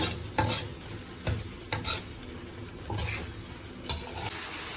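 Mamak-style mee goreng ingredients being stirred in a pan: repeated scraping strokes of a spatula at an uneven pace over a low sizzle, close and moderately loud.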